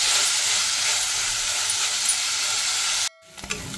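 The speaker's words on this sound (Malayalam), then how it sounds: "ഇനി ഇതിലേക്ക് നമ്മൾ നേരത്തെ ചതച്ച് വെച്ച ആ ഉള്ളി, ഇഞ്ചി, വെളുത്തുള്ളി, കറിവേപ്പില ആ കൂട്ടങ്ങൾ ചേർത്ത് കൊടുക്കാം" Crushed onion, ginger, garlic and curry leaves sizzle in hot coconut oil for a Kerala fish head curry, a loud steady hiss that cuts off abruptly near the end, leaving quiet stirring.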